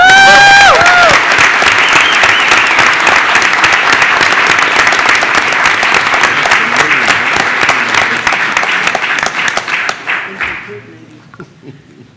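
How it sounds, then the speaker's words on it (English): Loud, dense applause from a crowd at a school board meeting honoring a team, sustained steadily for about ten seconds before tapering off, with a brief voice at the start. "Let's give them a round of applause"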